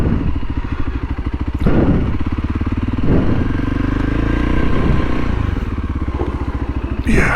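A dirt bike engine putters along at slow speed, a steady close thumping idle with low rumble and a couple of brief revs, heard alone with no talk.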